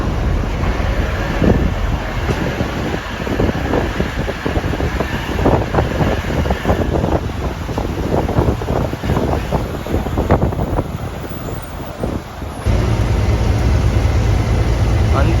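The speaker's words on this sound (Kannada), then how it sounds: "ಇವಾಗ ನಾವೆಲ್ಲ ಸಮುದ್ರ ದಾಟ್ಕೊಂಡು ಹೋಗ್ತಾ ಇದ್ದೀವಿ" Strong wind buffets the microphone while crossing the sea by boat, with rushing air and waves in a loud, continuous roar that shifts to a deeper steady rumble near the end.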